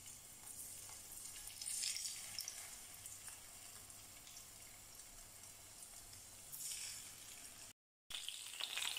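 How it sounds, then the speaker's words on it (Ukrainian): Steady sizzling of battered chicken wings frying in a hot pan over medium heat, moderately quiet, with soft crackles throughout and no voices. "Жаримо до готовності з двох сторін на середньому вогні до гарного золотистого кольору"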